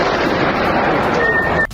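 A loud, continuous roaring blast from a drone attack explosion fills the moment, then cuts off abruptly.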